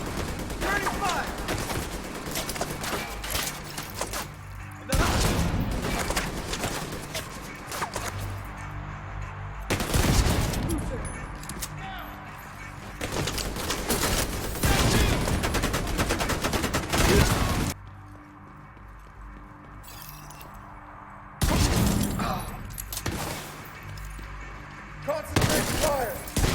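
Gunfire in the shooter game The Division 2 comes as repeated loud, close bursts of rapid shots and fusillades, broken by brief quieter gaps, with voices talking in between.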